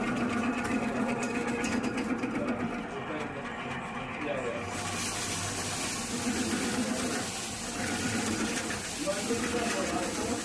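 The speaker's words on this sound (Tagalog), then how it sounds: "unti-unti mong ipapasok ang flexible cable habang ito ay umiikot hanggang sa marating nito ang lugar na may bara" A rotating flexible drain cable is fed into a clogged kitchen sink, its motor whirring and buzzing steadily and closely, with watery gurgles and voices speaking over it.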